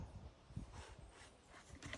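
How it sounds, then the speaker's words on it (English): Dogs running off after something in a field make faint yips, whimpers and panting in the distance, coming in short irregular bursts against a quiet outdoor backdrop. "the dogs have seen something in the field, so they're taking off and making noise in the background"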